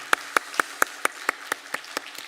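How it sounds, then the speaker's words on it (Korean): A church congregation at a Wednesday service clapping for the choir, its conductor and the accompanist: about ten sharp, evenly spaced claps that fade slightly, with no talking. "박수로 격려하도록 하겠습니다"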